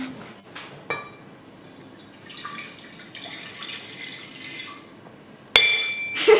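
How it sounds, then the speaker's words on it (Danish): Water is poured from one drinking glass into a plastic tub during a children's conservation experiment, heard as a soft trickling splash with light glass clinks and a sharp knock near the end. "Og du hælder det ene glas over i den der balje."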